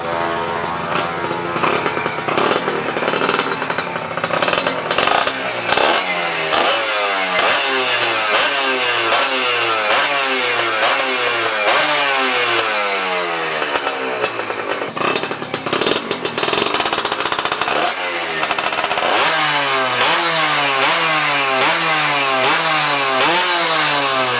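A small two-stroke Honda Sonic motorcycle fitted with a Tena engine revs repeatedly, its buzzy pitch rising and falling in loud, rapid surges close by.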